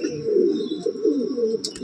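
A pigeon coos nearby in a continuous low, burbling warble, with a few brief higher chirps near the end.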